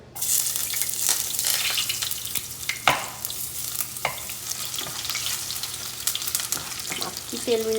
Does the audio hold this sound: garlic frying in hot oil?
yes